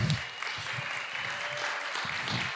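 Church congregation gives a short round of applause, soft and fairly distant, a steady patter of hands for a couple of seconds with no talking over it.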